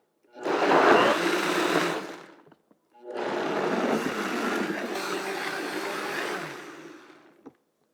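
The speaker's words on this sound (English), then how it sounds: "And I'm just gonna blend it until it's smooth." A high-speed blender roars loudly in two long runs while blending a sauce until smooth, with a brief pause between them, its whirring pitch shifting as the contents blend.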